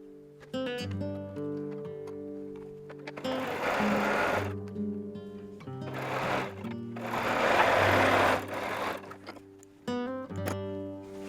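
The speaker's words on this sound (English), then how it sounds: "So I'm going to flip that over and sew that one." A sewing machine stitches jelly roll quilt strips in short, loud bursts of rapid whirring, separated by pauses filled with soft background music.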